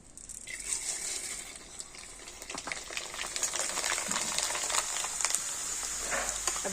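Sago pearls frying in hot oil on a stove at medium heat give a steady bubbling sizzle with scattered pops and crackles, fairly close and continuous throughout.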